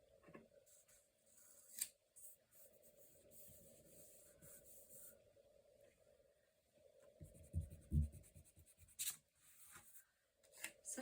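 Scissors trim paper at a crafting desk, with quiet close-up snips and soft papery rustling and rubbing in scattered bursts, and no one talking.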